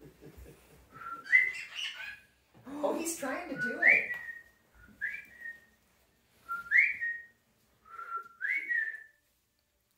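A pet bird gives a series of short rising whistles and tweets in separated bursts, close and clear, with people talking excitedly between the calls.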